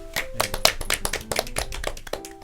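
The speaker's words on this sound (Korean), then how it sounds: "고생했던 고등학생들을 위해 박수 한번 칠까요?" A few people clap for high school students who sat the Korean college entrance exam, on a radio-style show; the sparse, uneven claps come close and loud over about two seconds, with no talk.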